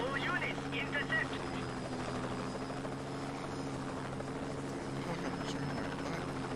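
Steady helicopter rotor drone from a video game, a constant low thrum with layered hum bands running throughout, loud and close, with a voice speaking intermittently over it.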